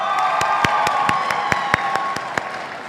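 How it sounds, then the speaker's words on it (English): A crowd applauds and cheers at a high school graduation ceremony, dense clapping with a few sharper nearby claps standing out, lively and continuous for a few seconds. "Please give a big round of applause to our St. Hope Lifetime Award winners."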